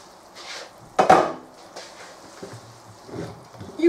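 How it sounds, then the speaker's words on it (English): A metal lid lifted off a pot of cooking chicken and mushrooms gives a single clattering knock with a brief scrape, followed by quiet kitchen clinks and low simmering sounds. "I'm just going to lift up the lid"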